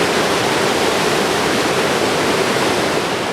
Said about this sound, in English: My thoughts were just a mere reflection of the river's continuous crash.